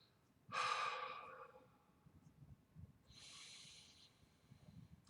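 Two slow, deep inhalations during a guided calming breathing exercise, the first strong and close, the second softer, in a quiet room with faint background rumble and no talking.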